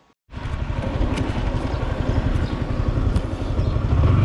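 Motorcycle engine ridden up close, a steady throbbing drone with clatter that holds loud and continuous after a brief quiet start, building slightly toward the end.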